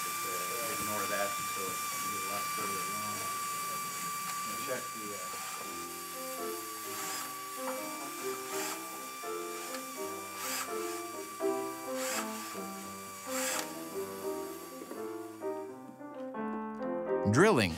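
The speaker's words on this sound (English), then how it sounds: "Drilling something as crucial as a new pin block leaves no room for error." A drill bores holes in a new piano pin block with a steady, high mechanical whine throughout. Background music plays underneath, and the whine cuts off near the end.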